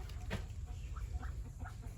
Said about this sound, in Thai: นี่เป็ด